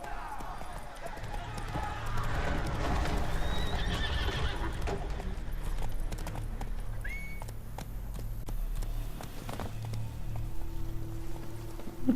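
Horse hooves clip-clop at a gallop in The Witcher 3 video game, with a whinny, steady and close through the whole stretch along with game ambience and a brief voice.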